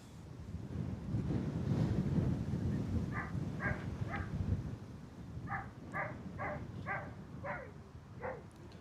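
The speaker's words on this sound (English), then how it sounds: "the dog in the kennel doesn't sound like it's having a good time." A dog barks in a kennel near an airport, in two bursts of repeated yelps, about three and then six, fairly faint and distant beneath steady wind noise and low rumble.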